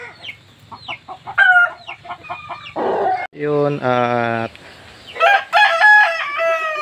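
A white gamecock rooster at a backyard coop crows loudly in several long calls, mixed with repeated clucks and other hens nearby, while someone talks over parts of it.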